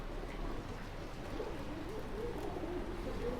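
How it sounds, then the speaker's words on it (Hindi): Desi pigeons in a pigeon shop coo softly in a low, continuous murmur against a faint ambient hiss, with no voices over it. "यहाँ पर देसी कबूतर 200 रुपये का रहेगा।"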